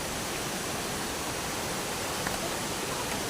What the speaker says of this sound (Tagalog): Andito na yung falls.